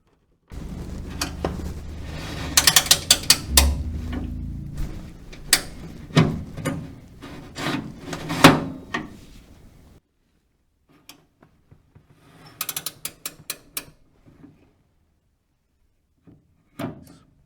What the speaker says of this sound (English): we're going to pull the slack out of these by adjusting this nut up